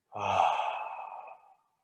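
A single deep exhale at the close of a breathwork exercise, a long, breathy sigh that starts strongly and fades out gradually over about a second and a half, heard alone.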